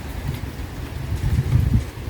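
Steady rain falls during a rainy late afternoon with clouded mountains in view, a constant soft hiss with low rumbling swells, fairly loud and unbroken, with no talking.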